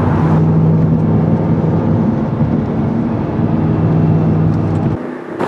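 A Pontiac GTO running hard on a timed lap, its loud, steady engine roar close and continuous before easing off near the end.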